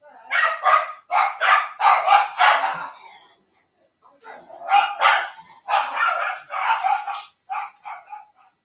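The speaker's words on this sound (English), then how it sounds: "I don't know why they're barking this morning." Several dogs bark indoors on a morning, loud and close, in rapid bursts of yips and barks that pause briefly, then resume.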